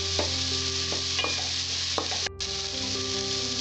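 Vegetables fry with a steady close sizzle in a pan for a vegetarian dalia khichuri, broken by a few scraping stirs of a spoon and one short clatter near the end.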